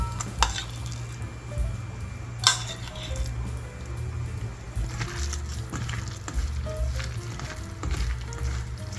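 Seasoned old cucumber (nogak) salad being tossed and mixed in a bowl, with soft scrapes and occasional light clinks over a steady low background bed.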